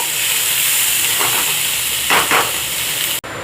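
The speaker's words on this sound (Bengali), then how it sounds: "সবজিটা একটু ভেজে নেব, নুন দিয়ে ভালো করে নরম করে নেব।" Vegetables frying with salt in a pan, a steady sizzling hiss throughout with a few brief stirring scrapes near the end, close and fairly loud with no talk.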